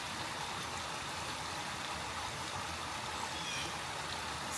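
An intermittent creek running high after rain gives a steady, broad rushing wash of flowing water, constant and fairly full with no clear breaks.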